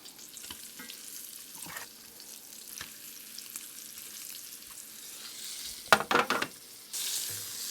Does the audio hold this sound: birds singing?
no